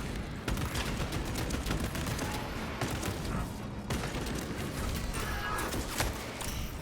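Rapid, continuous servo gun fire in the Space Marine 2 video game, a dense loud stream of shots with no pause, overlaid with other battle noise and no talk.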